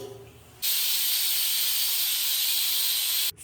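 A pressure cooker lets out a loud, continuous hiss of steam as its whistle is opened after two whistles, starting abruptly and holding steady for nearly three seconds before cutting off, close by with no talking.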